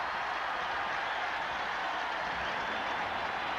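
A stadium crowd of Clemson Tigers fans roars after a big play in a 1988 college football game against Duke. The cheering is a steady, distant wash of noise that holds throughout, with no distinct voices above it.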